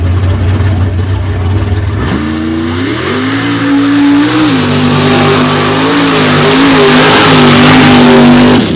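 A 600-plus cubic inch nitrous unlimited-class drag racing truck engine roars up close, rising in pitch as it accelerates hard, with a few shifts in tone before holding a loud, sustained howl.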